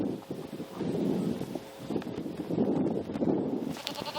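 Kiko goats bleat repeatedly at close range while feeding, with overlapping calls and some shuffling hoof noise throughout.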